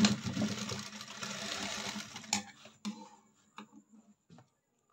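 A sewing machine stitches a blouse with a continuous mechanical whir for about two seconds, then stops and leaves only sparse clicks and handling knocks.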